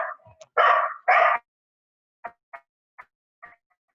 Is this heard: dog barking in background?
yes